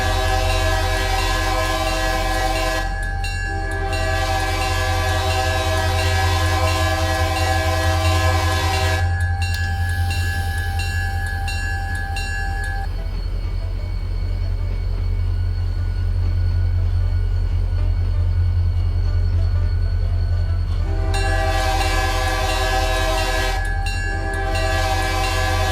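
A train's horn sounds in long, loud blasts on approach to a railroad crossing, heard from inside the cab over a steady low engine rumble, with short breaks between blasts.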